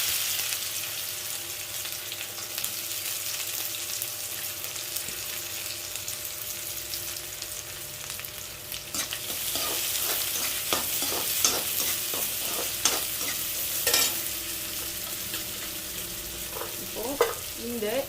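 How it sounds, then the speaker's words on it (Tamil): Onions fry in oil with mustard seeds, fenugreek and a dried red chili for a paruppu urundai kuzhambu, a soft steady sizzle with scraping stirs and clinks growing busier in the second half. "இப்போது ஆனியன் நல்லா வதங்கிடுச்சு"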